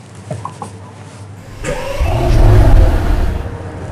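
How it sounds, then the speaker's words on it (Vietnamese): A few faint clicks, then a Maybach S680's V12 engine cranks and fires up with a deep roar that swells loudly before settling into a strong idle. "thử nổ máy cái chiếc xe Maybach S680 với cái động cơ"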